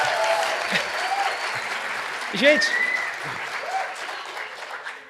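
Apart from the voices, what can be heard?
audience applause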